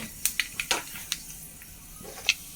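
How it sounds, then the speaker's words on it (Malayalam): Mustard seeds splutter in hot oil in a pan, a quiet run of sharp, scattered pops and crackles, about a dozen irregular bursts over a low background. "കടുക് പൊട്ടി വന്നിട്ടുണ്ട്."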